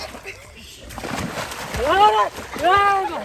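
Water is poured over someone's head, likely at a pond during the Bol Bam kanwar pilgrimage, and gives a brief broadband splash. Loud voices shout and call out over and after the splashing.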